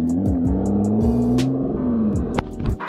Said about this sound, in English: So as the Evora goes off into the distance